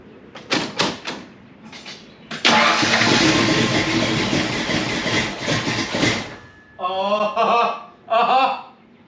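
A 347 stroker V8 car engine cranks in short bursts, catches and roars into a loud, steady idle for several seconds, then cuts out; someone speaks briefly afterward.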